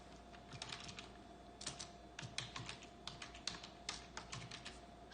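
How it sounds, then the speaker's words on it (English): Fingers type a command on a computer keyboard, a close, steady patter of quick key clicks in short irregular runs, fairly faint and alone with no talking. "So I'm gonna type this in."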